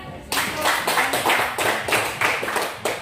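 Clapping from a school class after a group presentation, a burst of hands striking together that starts abruptly and surges in several uneven waves, fairly close and lively.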